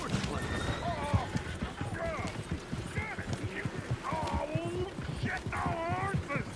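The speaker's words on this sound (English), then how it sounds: "shit, no horses. Damn horses." Horses in a video game clip-clop and whinny repeatedly at close range, their hooves and neighs mixed with ongoing game chatter and someone talking over them.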